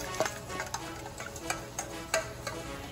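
Spoon clicks and scrapes as rice and veggies are stirred in a pan, irregular taps over a faint steady sizzle, close and moderately loud with no talking.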